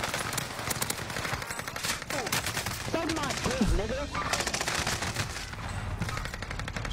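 Rapid bursts of automatic gunfire crackle nonstop through a shooter video game, mixed with whooshing effects and in-game sounds, while someone talks loudly over the action.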